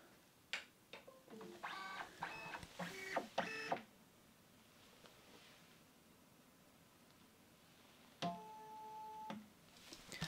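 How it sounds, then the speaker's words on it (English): An EPSON Perfection V370 film scanner powers on, with clicks and ticks followed by bursts of whirring, buzzing motor tones as its carriage initializes, then a second motor run later, fairly close in a quiet room. "then you can turn on the scanner"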